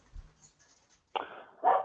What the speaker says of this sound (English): I would be better if my dog wasn't barking